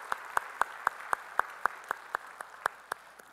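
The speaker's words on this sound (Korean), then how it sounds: "우리 박수로 환영하겠습니다" A congregation at a Sunday church worship service claps in steady unison, about a dozen sharp, evenly spaced claps ringing out at a brisk rhythm.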